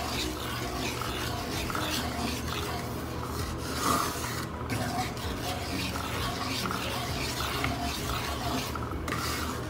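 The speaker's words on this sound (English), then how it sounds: "You have to keep stirring this." Wheat flour being stirred and roasted in ghee for kada prasad halwa, a steady scraping and rubbing of a spoon against the pan with a soft sizzle underneath, continuous and close for the whole stretch.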